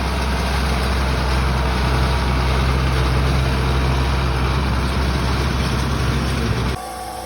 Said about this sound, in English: There's Charlie in the big John Deere.